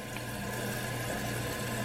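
A newly installed toilet flushing, a steady close rush of water filling the bowl with a low pump-like hum throughout, loud and continuous with no talk.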